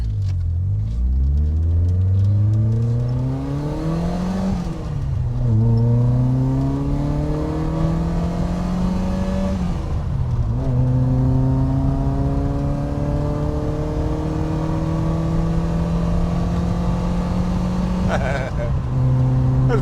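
A small Mk1 Volkswagen Golf CTI hatchback engine revs up through several gears, each climb in pitch broken by a short dip as it shifts, accelerating steadily away.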